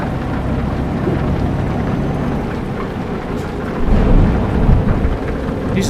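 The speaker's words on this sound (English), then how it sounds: "Jesus, that was a loud" Loud thunder rumbles through a rainstorm inside a truck-driving game, a continuous heavy roll that swells into a stronger crack and boom about two-thirds of the way through.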